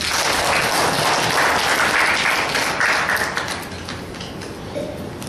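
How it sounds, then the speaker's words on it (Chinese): Church congregation applauding together, a dense steady wash of many hands clapping that thins and softens toward the end. "拍手给上帝。"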